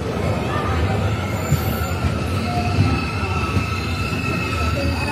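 The Golconda Express arrives at Nekkonda railway station, filling the clip with a loud, continuous rumble of rolling wheels and a thin, high squeal of steel on rail, steady throughout.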